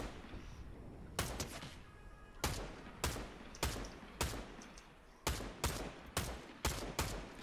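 AR rifle fire in Fortnite, with about a dozen sharp, loud single shots spaced unevenly over a quiet game background, the shots coming closer together toward the end.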